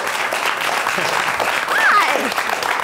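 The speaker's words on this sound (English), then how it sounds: "big round of applause" Audience applause at a live CreativeLive event, steady dense clapping throughout with a voice speaking over it and cheering.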